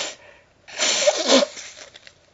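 A single sudden sneeze from a lecturer during a philosophy seminar, a sharp breathy burst after a quiet pause, close and loud, with a faint sniff before it and a brief trailing exhale.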